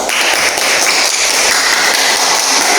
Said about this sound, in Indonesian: kalau pas kita beri aplaus untuk kelompok 2